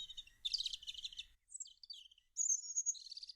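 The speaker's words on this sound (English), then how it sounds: "2 birds are making a nest on my head" Two small birds building a nest on a person's head give short bursts of high, clear chirps and tweets, close and fairly quiet, separated by brief silences.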